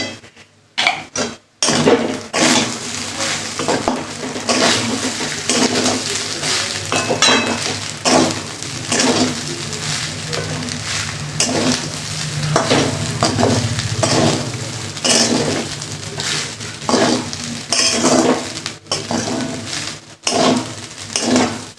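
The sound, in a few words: rice with vegetables frying and being stirred in a pan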